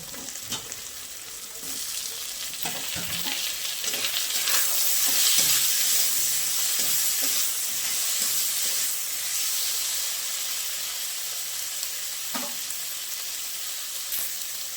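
Chopped tomato added to hot oil in a pan for a matar pani dish, a steady loud sizzle and frying hiss with occasional stirring clinks and bubbling pops, no talking.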